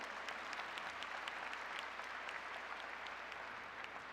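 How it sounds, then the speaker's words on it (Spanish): Steady audience applause fills a hall at a world congress on early childhood public policy in Puebla, with dense, even clapping that holds loud and continuous throughout, with no speech over it. "Pido un aplauso para ellos"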